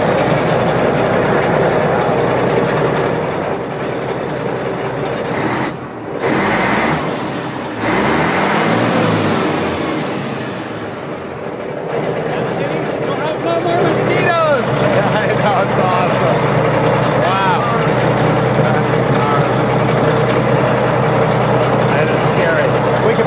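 A Freightliner drift truck's diesel engine running and revving loudly, a deep sustained roar that surges and dips, with people talking over it.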